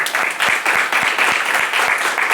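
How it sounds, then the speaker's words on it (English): An audience claps in steady, dense applause for a couple of seconds, close and loud. "Quick round of applause"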